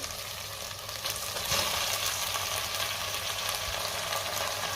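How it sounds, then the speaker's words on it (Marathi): Marinated soya chunks and vegetables are sautéed for soya pulao in a cooker, giving a steady, dense frying sizzle with faint occasional stirring scrapes throughout. "आणि 2 मिनिटं हे सगळं व्यवस्थित मी पुन्हा परतून घेणार आहे"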